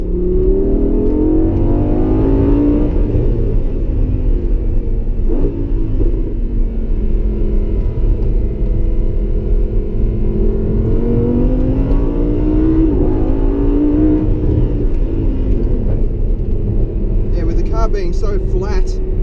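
A 2016 Lamborghini Huracan Spyder with four-wheel drive is heard from inside, its engine rumbling loudly and rising and falling in pitch as it accelerates through gears, steady and close for the whole stretch.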